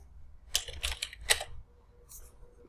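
A few short bursts of clicky key presses, close and crisp, separated by quiet pauses.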